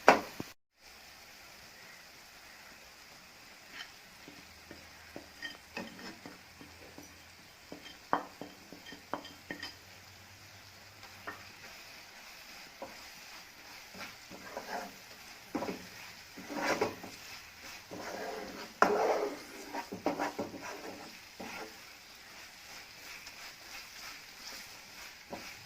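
Onions and salt being sautéed in a pan for a Kerala pepper liver fry, with a spoon scraping and stirring in scattered bursts over a soft, steady sizzle, the strokes growing busier toward the end.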